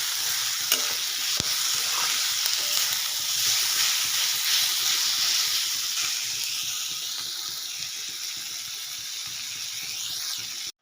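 Spices are stirred as they fry in a pan, with a continuous loud sizzle, a spoon scraping now and then, and a faint trickle of water.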